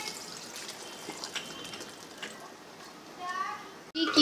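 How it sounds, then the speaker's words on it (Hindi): Cold water is poured over boiled macaroni in a home kitchen, a continuous soft splashing wash with small drips and clinks, ending in a sharp knock. "बहुत अच्छे तरीके से हम इस पर ठंडा पानी डालेंगे"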